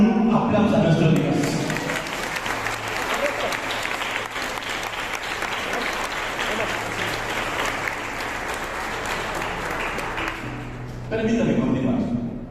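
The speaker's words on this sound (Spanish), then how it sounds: "con un aplauso a nuestro Dios." Loud, sustained applause from a church congregation rolls on for several seconds, thinning slightly in the middle before swelling again near the end, with scattered voices blended into the clapping.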